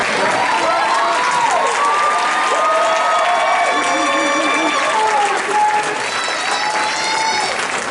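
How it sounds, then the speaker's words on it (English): Graduates stand at an Eastern Michigan University multicultural graduation ceremony while a large audience claps loudly and continuously, with whoops and cheering voices rising and falling over the steady applause throughout. "as you stand and receive your much-deserved applause, accolades, recognitions"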